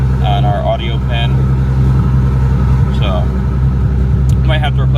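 Toyota JZX100 engine running at a steady idle-like hum, loud and close, with someone talking over it in short bursts.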